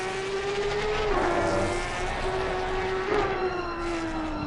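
A Porsche Cup race car runs wide on the circuit during a Porsche Cup SRP race, its engine holding a loud, steady high drone with small pitch dips as it passes close by, with no talk over it.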